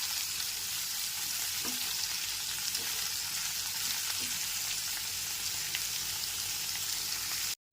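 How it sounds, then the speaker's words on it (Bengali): Onions fry in a pan over a low-to-medium gas flame, giving a soft, even, steady sizzle with a few faint light knocks and no voices. "পেঁয়াজটা লাল করে ভেজে নিতে হবে"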